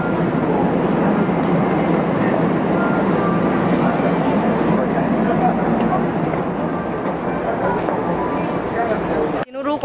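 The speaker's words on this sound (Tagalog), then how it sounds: "Yan, nag-antay na lang kami ng tren." Steady loud rumble of a train, continuous and close, with a constant roaring drone throughout before cutting off abruptly at the end.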